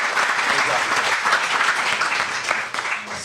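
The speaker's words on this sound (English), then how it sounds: "a big round of applause for the panel" An audience applauds a panel at a talk on farm-to-fork social media in Sacramento, a dense, steady roar of many clapping hands held at even loudness, with voices mixed in.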